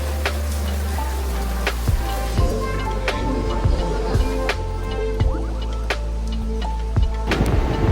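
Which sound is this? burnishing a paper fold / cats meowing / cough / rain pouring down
rain pouring down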